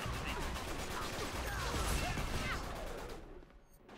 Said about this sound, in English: Oh shoot, that was my grenade.